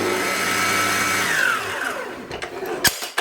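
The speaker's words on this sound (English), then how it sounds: "I'll whisk that until it's nice and airy." An electric mixer whisks a pumpkin baking mixture until airy, a steady whirring motor with a descending pitch sweep as it slows and stops, then a few clattering knocks against the bowl.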